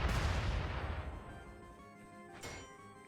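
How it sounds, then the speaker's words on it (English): Anti-air missiles launching in a turn-based mech battle, a loud booming blast at the start that rumbles and fades over a second or so, followed by a quieter crack and ringing tail. "So I'm going to hit Ven with the MKL-1 anti-air missiles right there."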